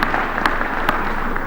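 A crowd claps in applause at the Building Bridges Initiative report launch at the Bomas of Kenya, a short, dense burst of many hands with a few sharper claps standing out.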